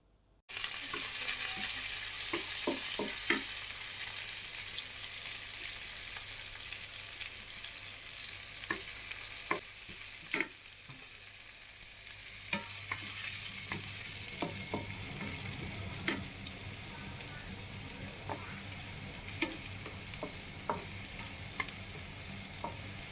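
Garlic, chili and ginger sizzle steadily in a hot pan for a fish sauce, with a constant frying hiss and scattered sharp crackles and stirring clicks throughout, no voices.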